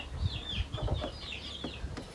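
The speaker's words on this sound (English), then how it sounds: "This is Lakin's pet rooster, Silver." A pet rooster gives a few short, soft clucks at close range, irregular and quiet in an indoor setting, with no talk over it.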